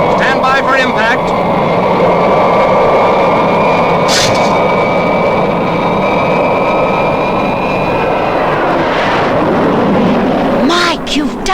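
Supercar, a fictional puppet-series aircraft, drones loudly with a steady jet-like engine roar in flight, a high whine running through it, as voices speak over the noise.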